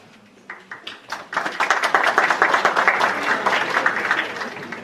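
An audience applauds at a professional ethics lecture, the clapping swelling from a few scattered claps into steady, full applause that carries on to the end.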